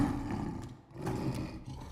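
A full-grown lion roars in a low, rumbling burst that rises and falls over two seconds, fairly close and alone with no talk.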